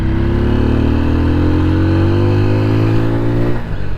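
A TVS Apache 200 4V motorcycle revving hard on an open road, its engine note climbing steadily through the gears for several seconds before easing off near the end, loud and close with no talking.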